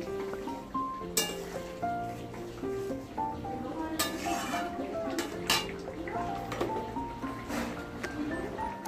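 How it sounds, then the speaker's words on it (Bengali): Koi fish curry with potatoes stirred in a pot, giving soft, irregular clinks and scrapes of a utensil against metal over a quiet, low background. "নেড়ে নিচ্ছি।"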